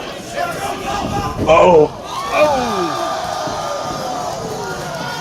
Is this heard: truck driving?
no